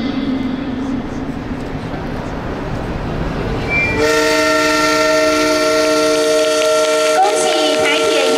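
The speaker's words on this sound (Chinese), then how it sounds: "请鸣笛。" A Taiwan Railways train horn sounds at Guishan station on the Yilan line during a sister-railway ceremony. A murmuring crowd is heard first, then a loud, sustained horn blast holds to the end.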